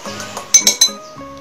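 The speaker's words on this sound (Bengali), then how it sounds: "দেখুন আমি ডিমের সাথে সুজিটাকে ভালো করে মিশিয়ে নিচ্ছি।" A spoon mixes semolina with egg in a bowl for a syrup-filled semolina pitha batter, giving three sharp, close metallic clinks against the bowl amid softer stirring scrapes.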